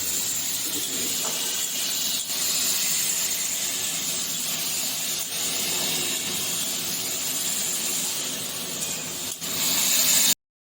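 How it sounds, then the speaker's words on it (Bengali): Carrot and capsicum fry together in a pan for a vegetable pulao, a steady broadband hiss and sizzle that holds loud and even throughout, with faint stirring scrapes and no voices. "গাজর ক্যাপসিকাম সব বন্ধুরা একসাথেই আমি ভেজে নিই এগুলো আগে এগুলো ভেজে নেব হালকা করে"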